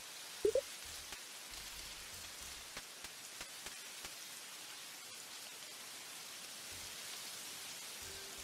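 Rain in the video game Monster Harvest, a soft, steady hiss of drops on a surface with a few faint ticks and a brief tonal blip near the start, quiet and even throughout.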